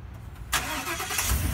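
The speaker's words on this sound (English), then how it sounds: "the vehicle starts" A Ford F350 truck engine started by remote start, with a sudden cranking burst that settles straight into a steady, close idle, after a short quiet lead-in.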